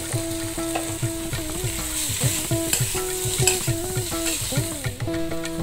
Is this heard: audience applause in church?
no